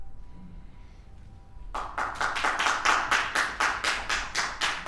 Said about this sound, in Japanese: 野党から一生懸命拍手が出るんだから大したもんだな